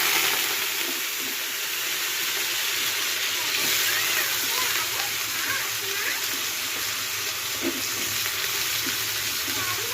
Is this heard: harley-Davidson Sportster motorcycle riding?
no